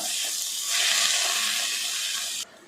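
Loud steady sizzling hiss of cabbage frying in a hot pan, swelling slightly partway, then cutting off abruptly near the end.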